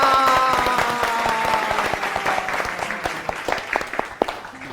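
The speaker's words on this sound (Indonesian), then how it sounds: "Tepuk tangan dong" A studio audience breaks into steady applause, crisp overlapping claps close by, thinning slightly and growing more scattered as it goes on, with a sung or hummed tone briefly over the start.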